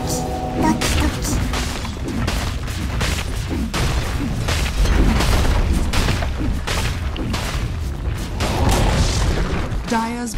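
A Dota 2 tower falls during a PGL Arlington Major 2022 match: dense, loud booms and crashing impacts hit in quick succession, with voices talking underneath.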